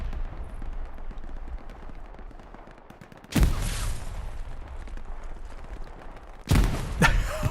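Grenades explode in the video game Hell Let Loose during an infantry battle at Kursk, two heavy booming blasts a few seconds apart over a continuous rattle of distant gunfire, with no talk.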